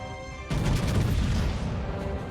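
A Tier 10 battleship in World of Warships fires a salvo of heavy shells, a sudden loud booming blast that rolls into a sustained rumbling roar before fading slightly.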